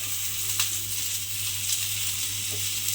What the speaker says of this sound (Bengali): চালটাকে একটু তেলের মধ্যে নেড়ে ভাজা ভাজা মতো করে নেব